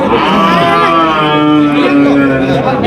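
Loud, overlapping moos from several dairy cows and calves fill the air, with a busy crowd murmuring underneath, at a crowded cattle market in Ambari.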